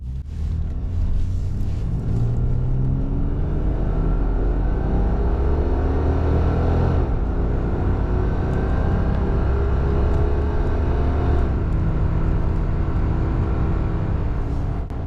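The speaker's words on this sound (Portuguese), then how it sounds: "vamos ver como esse 3 litros se sai quando acelerarmos na" A 1982 Vauxhall Senator with a 3.0 litre engine accelerates on the road, its engine rumbling and rising steadily through the gears, loud and continuous from inside the car.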